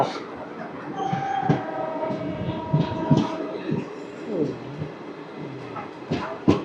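The Rayagada–Guntur Express pulls away from Jimidipeta after a one-minute stop, a rolling rumble with sharp rhythmic clicks and knocks from the wheels, muffled voices mixed in inside the coach.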